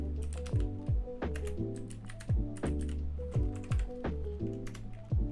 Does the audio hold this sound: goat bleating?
no